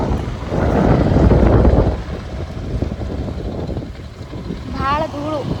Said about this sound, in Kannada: ಭಾಳ ಗಾಳಿ ಧೂಳು ಬರೋಕ್ಕಾಗಿದೆ.